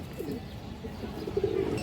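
A female pigeon coos softly at close range, a low murmuring coo that swells near the end, with faint handling noise and no talk.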